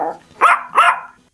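A dog from the Minecraft video game gives two loud, close barks in quick succession, with a short rough growl trailing after them, heard on its own without talk.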